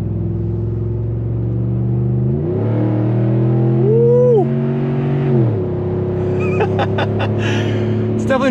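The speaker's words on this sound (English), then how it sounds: "it sounds incredible, and it gets up and goes when you really want it to" A 2013 Ford Raptor SVT truck's engine revs up and accelerates, a loud, close, steady drone climbing in pitch, peaking, then dropping back as the truck settles; a brief voice breaks in midway and some clicks and rattles follow near the end.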